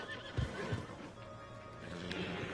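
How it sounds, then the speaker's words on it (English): Horses whinny and neigh in Red Dead Redemption 2, with a few hoof clops and low snorts, nearby and moderately loud, no one speaking. "Let's calm these horses."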